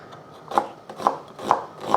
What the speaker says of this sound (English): I'm going to slice up half an onion.